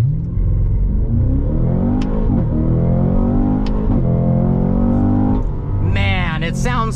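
Hard acceleration from a 2024 Cadillac CT5-V Blackwing in track mode, its engine roaring steadily and climbing through the revs, with sharp cracks on the upshifts, heard close from inside the car.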